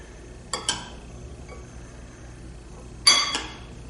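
A spoon stirs salsa with chopped ripe olives in a bowl, making two clusters of bright clinks and scrapes against the dish, separated by quiet.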